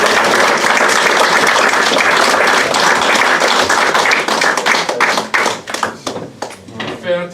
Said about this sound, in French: vais remettre avec un grand plaisir à Brian, sous les applaudissements du public.